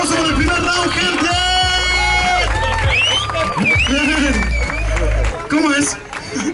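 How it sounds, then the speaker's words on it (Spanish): Crowd at a live rap battle final cheering, clapping and shouting loudly after the first round, with a loud announcer's voice over the noise. "¡Fuerte el aplauso por el primer round, gente!"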